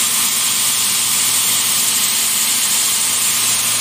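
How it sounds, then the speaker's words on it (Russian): A belt grinder's motor runs after being started, a loud, steady broadband whirring hiss that holds constant throughout. "Покажу, как включается. Нажимается на пуск. И плавно начинает"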